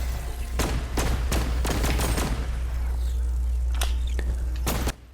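Rapid bursts of gunfire from the Spatial Ops VR shooter game, played on Vision Pro with PSVR 2 controllers: about eight sharp shots spaced irregularly over a loud, steady low hum, with no talking.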